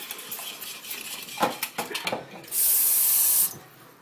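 A utensil scrapes and clinks in a pot as a thickening mixture is stirred, with irregular close taps and scrapes, followed by a loud hiss of spray lasting about a second.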